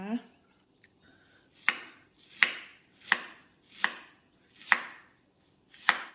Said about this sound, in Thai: ทีนี้เรามาเริ่มหั่นเครื่องกันก่อนนะคะ